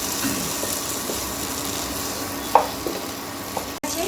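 Taro greens mixed with radhuni seed paste are stirred in a pan, giving a steady soft sizzle with a few scraping clicks from the spoon. No one speaks.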